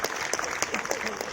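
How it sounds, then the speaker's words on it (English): Audience applause at a national conference on the Indian system of medicine, a short burst of claps with a few sharper individual hits, moderately loud and unbroken by speech. "Give a big applause to India,"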